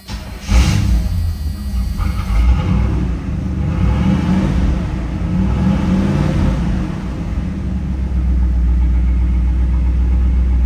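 A 1984 Chevrolet Camaro V8, likely a 350, with a single muffler and dual exit rumbles close by, revving briefly at first and then settling into a deep, throaty, uneven idle.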